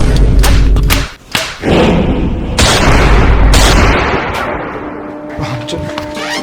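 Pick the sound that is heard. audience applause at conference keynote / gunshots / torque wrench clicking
gunshots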